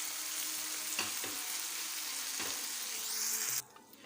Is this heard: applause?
no